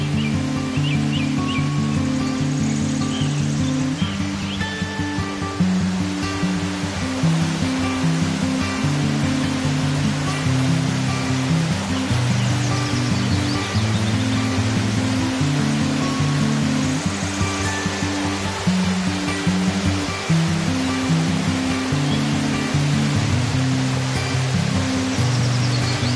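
A river rushes through a rocky gorge at Hidden Canyon Beji Guwang, a constant loud wash of flowing water lasting throughout, with a steady tonal layer underneath.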